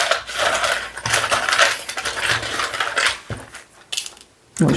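Wooden divination pieces shuffled and clattered together in the hands, a dense, continuous rattle of knocking wood that eases near the end before a final burst.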